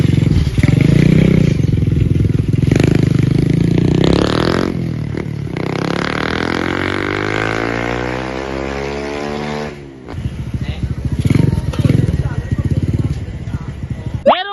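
Suzuki Smash 115 motorcycle fitted with a new 30mm carburetor, accelerating on a test drive. The engine sounds loud and close as its pitch climbs steadily through a long pull, drops off briefly, then carries on running.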